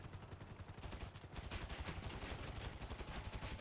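Sustained automatic gunfire in GTA Online during the Cayo Perico Heist, a steady fast rattle of shots that builds slightly louder and runs unbroken throughout, with no talking.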